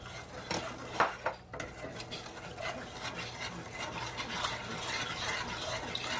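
A spoon stirs egg yolks into a peach custard mixture in a pan, with soft scraping and light clinks against the pan's sides, quiet and continuous with a few sharper taps early on.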